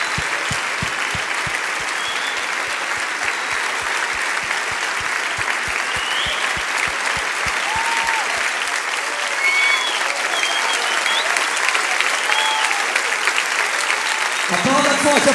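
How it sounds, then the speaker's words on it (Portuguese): A church congregation applauds loudly and continuously, with a rhythmic clap beat over the first half and voices and cheering mixed in throughout. "Vamos aplaudi-los enquanto eles descem,"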